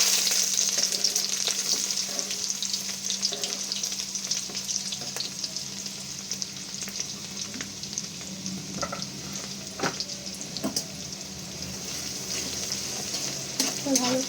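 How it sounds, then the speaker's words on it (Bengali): Chopped ginger and garlic frying in a little oil for chili chicken, a continuous close sizzle and crackle with occasional stirring clinks, steady and fairly loud throughout. "অল্প কিছুটা পরিমাণ তেল নিয়ে এখানে আমি কোচানো আদা রসুন অ্যাড করে দেবো।"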